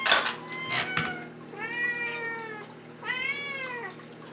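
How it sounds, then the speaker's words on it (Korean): A cat gives a few short, close meows for treats, then two long, rising drawn-out meows, insistent and clear. "우리 카이의 이 간식이다 소리를 우리 집에서 카이렌이라고 불러요"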